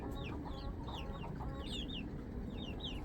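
Several chickens cluck and chirp softly in quick, overlapping calls, fairly faint and close, with a low steady hum of background noise.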